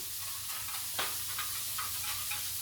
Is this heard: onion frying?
yes